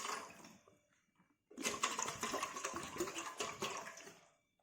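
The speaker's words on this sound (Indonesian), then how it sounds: "Oke, kita akan coba tambahkan lagi airnya." Water pours into a mixture of dish soap, a steady splashing gush that starts abruptly after a short quiet lead-in, runs loud for about three seconds, then stops.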